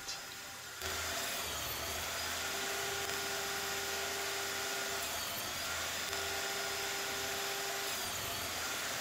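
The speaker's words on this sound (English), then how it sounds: "use this fancy jig that allows me to cut a slot in the corner of the frame" A cutting jig slots the corner of a wooden picture frame made from exotic woods, giving off a steady high whine that starts abruptly and holds throughout at a moderate level.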